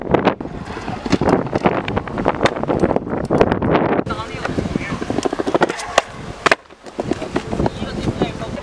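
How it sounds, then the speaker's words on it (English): Strong, gusting wind buffets the microphone beside the sea wall in Barcelona, roaring loud and close across the whole stretch, with bursts of talk from people nearby mixed into the blustery noise. "it's seriously too windy now"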